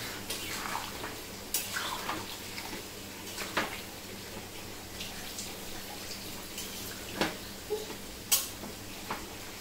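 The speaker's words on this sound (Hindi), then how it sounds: "थोड़ा सा पानी ऐड करिए मम्मी" Water is poured into a cooking pot of Bengali-style chicken curry with potatoes, giving a steady low splashing wash. Faint ticks and small clinks rise over it now and then.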